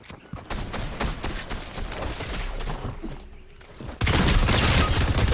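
Gunfire from a player's weapon in Fortnite rattles off in a dense, continuous volley of loud shots, then cuts to a harsher, louder burst near the end.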